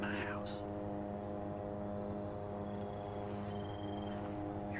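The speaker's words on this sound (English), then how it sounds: "Here comes a helicopter over now." A helicopter passes over a wooded thicket during a hunting trip, its steady rotor and engine drone with a low harmonic hum that holds throughout at a moderate, continuous level.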